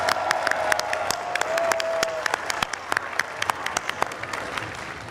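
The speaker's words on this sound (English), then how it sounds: "Can we hear you with a big round of applause if that's the case?" A large festival audience gives a big round of applause, a broad roaring wash of clapping and crowd noise with sharper individual claps standing out near the front.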